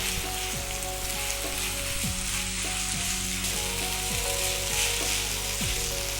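Mushroom fried rice with soy and red chili sauces sizzling and crackling in a hot pan, a loud continuous fry with repeated scraping strokes of a spatula as it is stirred.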